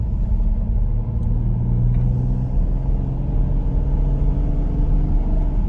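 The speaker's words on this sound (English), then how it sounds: "I'll leave the window roll down a little bit so you can hear some of the car." A 2014 Porsche Cayenne driving, heard through a partly open window: a loud, steady low engine drone and road rumble with a constant even hum throughout.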